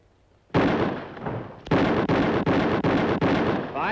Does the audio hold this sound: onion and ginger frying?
no